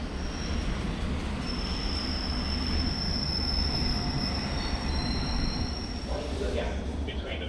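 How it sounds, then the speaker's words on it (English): A train rumbles steadily through an underground station, with sustained high wheel squeal over the rolling noise and brief voices near the end. "This is a proper underground station."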